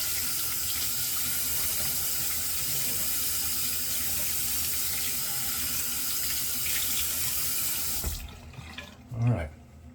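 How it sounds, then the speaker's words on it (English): Warm water runs steadily from a bathroom tap into a sink for wetting the face before a shave, a loud continuous splash that cuts off abruptly near the end, followed by a few faint handling sounds. "I'm going to use a little warm water this time instead of the bougie sprayer."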